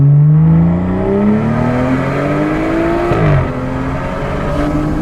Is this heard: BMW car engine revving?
yes